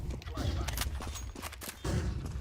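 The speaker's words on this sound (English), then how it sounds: "Deploying flashbang. Throwing flashbang." Counter-Strike 2 match with a flashbang grenade thrown amid dense gunfire bursts and sharp blasts, loud and continuous, with chatter from players over the action.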